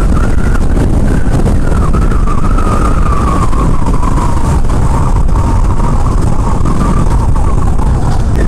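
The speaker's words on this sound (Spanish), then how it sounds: "Sí, bastante viento, eso sí." Strong wind roars across the microphone while riding a KTM Duke 200 motorcycle near Punta de Lobos, a loud, steady buffeting that fills the whole clip with a faint engine tone running underneath.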